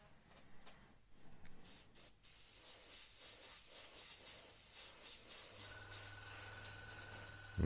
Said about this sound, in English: I'll just put a brush full of paint in the airbrush